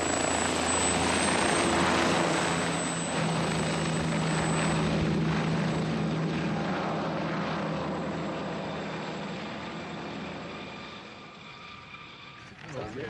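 A helicopter in the Canadian Rockies, its loud, steady rotor and engine drone filling the air close by, then slowly fading as it moves away, with a voice speaking over it.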